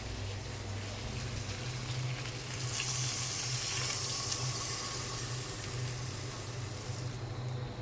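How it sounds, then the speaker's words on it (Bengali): Water is poured into a pan of fried potatoes and rohu fish bones, setting off a louder hiss over the steady background sizzle of cooking, all fairly quiet with no talking. "এখন জল দিয়ে নেব পরিমাণ মতো"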